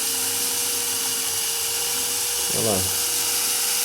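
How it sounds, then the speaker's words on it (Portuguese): An electric drill fitted with a very small bit bores a hole in a walking robot's parts: a steady motor whine runs throughout, with a short rising-and-falling burst of effort near the end as someone speaks briefly. "Você pode utilizar uma furadeira com uma broca bem pequenininha."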